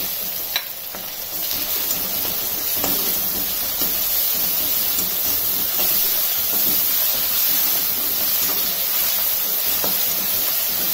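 Ginger garlic paste and turmeric sauté in a hot pan, giving a steady, loud, close sizzle with occasional stirring scrapes throughout.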